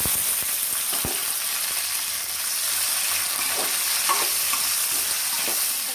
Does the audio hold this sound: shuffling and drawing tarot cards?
no